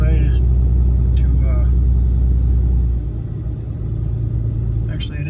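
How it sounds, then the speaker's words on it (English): A car driving down a road gives a continuous low rumble that shifts to a slightly lighter hum partway through, heard from inside or close by, with voices occasionally over it. "This is driving down the road"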